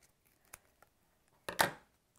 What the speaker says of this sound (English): we just cut it with scissors